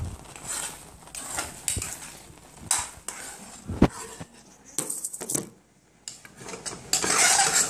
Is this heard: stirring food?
yes